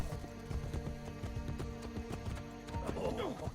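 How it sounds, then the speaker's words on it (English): Horse hooves clip-clop in a steady rhythm in a video game, with occasional whinnies and a game soundtrack playing underneath throughout. "my horse's name is Fred"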